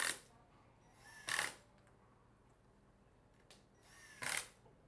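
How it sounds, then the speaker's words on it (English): A drill drives screws to fix hinges to a cabinet door in short separate bursts, three brief whirring spurts with quiet pauses between them, fairly close. "use a drill and prepackaged screws to"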